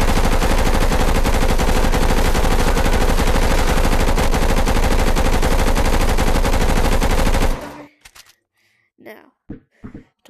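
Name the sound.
SMG firing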